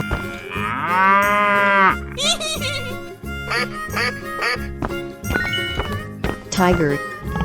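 A cow in a 3D animal sliding game gives a long, loud moo, followed by quacky cartoon sound effects and bouncy game music.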